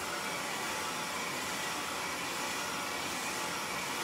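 A hair dryer blows steadily and close by at a constant roar while styling long layered hair on a large ceramic round brush, with no break or change in pitch.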